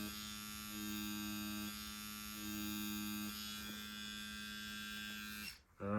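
A Neuma 4 Macro tattoo machine runs on synthetic skin with a faint, steady electric buzz that holds even throughout and cuts off near the end.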